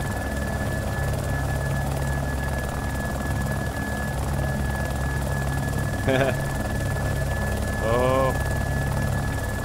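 Helicopter in the video game DayZ, a steady loud rotor and engine drone held throughout as it flies low, with brief voices and chatter over it.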